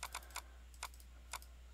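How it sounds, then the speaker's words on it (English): Light clicks on a computer keyboard come as a quick cluster of three, then single taps, with a steady low hum underneath. "I'm just going to click enter."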